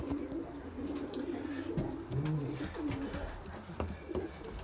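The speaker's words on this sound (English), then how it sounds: "the majority of these pigeons are all Jan Ardens" Young racing pigeons, mostly Jan Aarden strain, cooing in a loft: steady overlapping low throaty coos from several birds close by, with soft rustling and occasional clicks around them, no talking.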